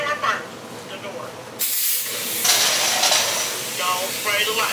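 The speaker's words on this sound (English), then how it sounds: "So spray the door first." Cleaner is sprayed from a spray bottle onto an oven door in an apartment kitchen, a series of short close hissing bursts with an audible pause between them.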